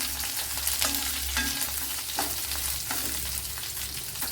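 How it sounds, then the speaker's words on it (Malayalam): Three cardamom pods added to hot oil sizzle and crackle steadily, close and loud, with a few soft stirring scrapes in the pan. "അപ്പോൾ ഏലക്ക ഒരു 3 എണ്ണമൊക്കെ ഇട്ട് കൊടുക്കാം."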